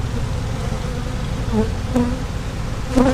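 Honey bees buzz close up at a nuc hive, a continuous droning hum that swells briefly as individual bees pass near.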